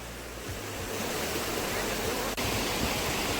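Hosadevata waterfall near Ankola in Uttara Kannada, heard from the top: a steady, dense roar of falling water that fills the whole clip without a break.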